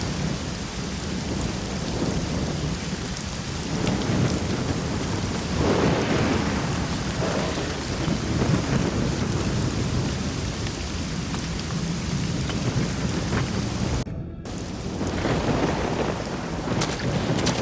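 Steady heavy rain pours through a thunderstorm in the video game Risen 2, with rolling thunder rumbling underneath and a brief dropout near the end, no talk over it.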